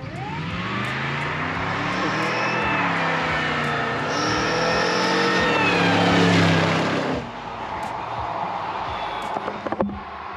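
A 1970s Lincoln Continental swapped with a supercharged LSA V8 approaches and revs, a loud rising engine roar that swells toward the middle, then cuts back to a lower idle with a few sharp pops at the end.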